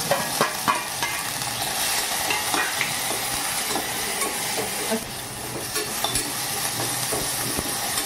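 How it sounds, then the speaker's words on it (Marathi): Mustard seeds crackle and sizzle in hot oil for a tadka for a Khandeshi brinjal sabji, a dense, close frying hiss with occasional stirring scrapes and pops. "हे बघा, असा तडका आला पाहिजे, तसं तेल आपलं तापलं पाहिजे।"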